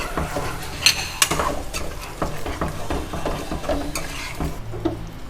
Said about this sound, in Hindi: अब इसमें मैं ये दही डाल दूंगी, दही के साथ भूनेंगे।